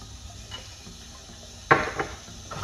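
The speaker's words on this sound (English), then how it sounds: "Give it a nice stir." A spoon scrapes and clinks against a pot while hing and degi mirch are stirred into melted butter for dal makhani, a few light knocks and one sharper clatter, close by.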